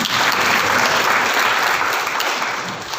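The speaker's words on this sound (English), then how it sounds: "they deserve a round of applause" An audience at a conference gathering breaks into sustained applause, a dense, loud wash of clapping that holds steady for the full stretch and eases slightly toward the end.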